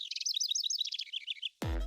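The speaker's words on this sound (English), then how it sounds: "if you took the sound of birds chirping" Birds chirping in rapid, bright repeated tweets for about a second and a half, clear and close, then abruptly cut off by a different low, sustained tone.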